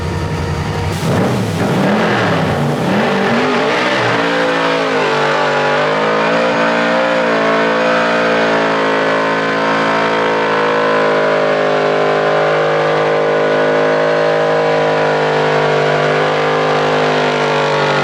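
A drift car doing a burnout roars loud and close, its engine revving and climbing briefly before settling into a sustained, steady high-rev drone for many seconds.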